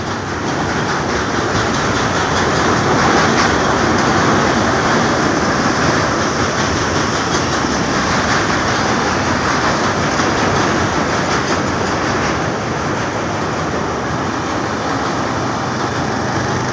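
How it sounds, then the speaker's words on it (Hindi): A superfast express train rolls over the Mahanadi bridge at Cuttack, a loud, steady roar of wheels with rhythmic clickety-clack running unbroken from start to finish, close by. "super fast express"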